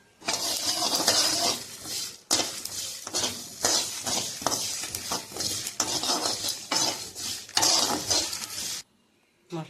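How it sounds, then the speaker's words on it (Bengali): Spices and chilli stirred and fried in a pan in a village kitchen, with repeated scraping of a utensil against metal, clinks and a soft sizzle running steadily and close, stopping near the end. "এবারে সব মশলাগুলো দিয়ে ভাজবো এর সঙ্গে"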